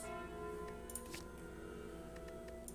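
A soft, sustained bell tone rings and hums steadily from a relic in the deckbuilding video game Slay the Spire, faint and alone with no talk.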